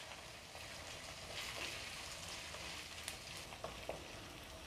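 Onion and tomato sauté in oil in a pan, a soft continuous sizzle with occasional scrapes and stirring clicks close by.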